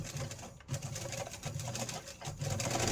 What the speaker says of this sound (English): now we're going to stitch down each of these to finish that edge, and we can do them all at the same time